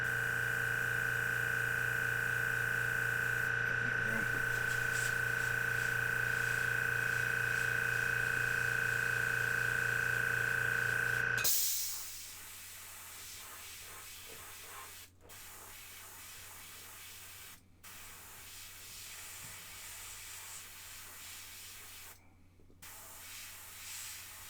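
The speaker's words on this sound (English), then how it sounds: "We're only spraying it around 20 psi." Airbrush spraying paint at about 20 psi onto a Funko Pop Warhammer 40,000 Intercessor figure: a steady, close hiss runs for about eleven seconds, then cuts off, leaving faint room noise with a few soft clicks.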